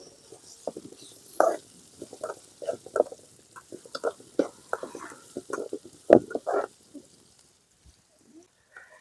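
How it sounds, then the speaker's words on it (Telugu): Ginger-garlic paste frying in a pan after the onions, with close, intermittent sizzles and stirring scrapes in short irregular bursts that fade to near quiet at the end. "ఈ అల్లం చిన్నులపై పచ్చివాసన పోయే వరకు వేయించుకోవాలి"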